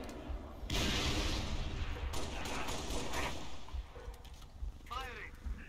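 Gunfire in the video game Halo: Reach, dense rapid shots and booming blasts packed together for several seconds, loud and sustained, thinning toward the end with a brief voice near the close.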